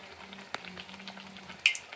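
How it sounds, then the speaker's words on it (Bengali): Pitha frying in hot oil, a faint crackling sizzle with a couple of brief sharp pops as oil splatters. "ও তেল ছিটছে কিন্তু, সাবধান, বি কেয়ারফুল।"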